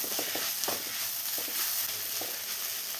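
Ginger garlic paste sautéing in a pan, a steady close sizzle broken by short scraping stirs of a spoon at a loose, uneven rhythm.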